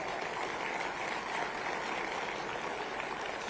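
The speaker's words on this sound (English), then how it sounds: "Let's give him a big round of applause." Faint, distant applause from an audience at a government event in Gandhinagar, a soft continuous wash of clapping at low level with no distinct individual claps.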